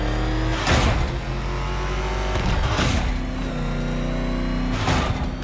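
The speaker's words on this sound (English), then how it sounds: "There's more to this test than just going vroom, vroom really fast." Batmobile engine in Batman Arkham Knight revving hard, a loud close roar rising in pitch through repeated gear shifts, with three sharp bursts of acceleration across the run.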